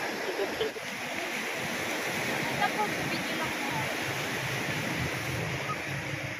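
Sea waves on a calm day wash steadily in a continuous broadband roar, close and moderately loud, with no distinct individual breaks and no talking.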